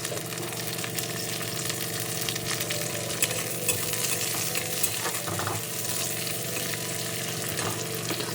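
Onion and tomato fry in a pan on a home stove, giving a steady close sizzle with occasional scraping stirs, and no one speaking.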